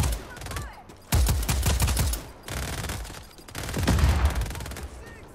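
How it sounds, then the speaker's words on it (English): Automatic gunfire in Just Cause 4 on a PS4 slim, loud rapid bursts in three long stretches with brief pauses between, dense and close with a booming low end. "we're gonna keep fucking shooting every fucking person"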